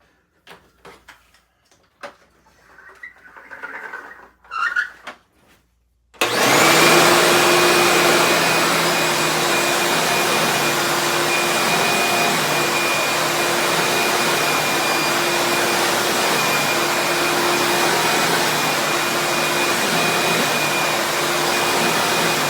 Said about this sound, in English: Well, old Eurekas are mostly kind of loud